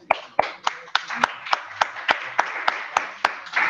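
A handful of people clapping in a lecture room during a molecular dynamics workshop, a slow, regular series of sharp individual claps, about one every third of a second, close and fairly loud.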